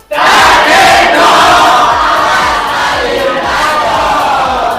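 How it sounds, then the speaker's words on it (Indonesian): High school class loudly shouting their class chant together in a classroom, a dense, energetic wall of many young voices yelling in unison, close and sustained for several seconds. "saya minta kalian ucapkan yel-yel kelas kalian seperti kemarin ya"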